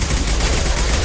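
Gunfire in a firefight in the Mass Effect 2 video game, a dense, steady wash of loud shooting that fills the whole short stretch with no clear separate shots and no talk.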